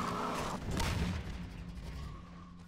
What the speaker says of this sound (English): Oh god, a grenade.